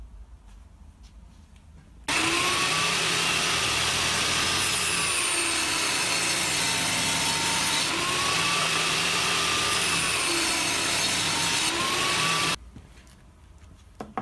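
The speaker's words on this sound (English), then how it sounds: "it will cut me a groove down the middle of this clapperboard to accept the blackboard section" A power tool, likely a router, cuts a groove down the middle of a wooden clapperboard piece, giving a loud, continuous whining roar of about ten seconds with a wavering pitch, starting and stopping abruptly.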